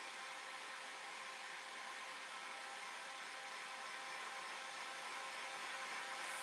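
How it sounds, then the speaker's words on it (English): A heat gun warming a decoupage pumpkin decoration, a steady, even airy whoosh of blown hot air that runs continuously and close up, with no talking. "I'm going to use the heat gun now to make it nice and warm again"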